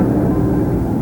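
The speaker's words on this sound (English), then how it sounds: "The airplane does a flat, complete tumble over the top." A Glasair light airplane tumbles through an aerobatic maneuver, its engine a steady, loud, unbroken drone throughout.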